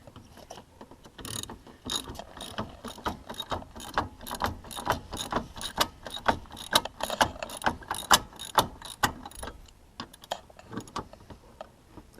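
Bolts on the radiator retainer of a 2009 Kia Spectra EX are loosened with a ratchet, giving rapid, loud metallic clicks in repeated bursts with short pauses between them, close up and with no talking.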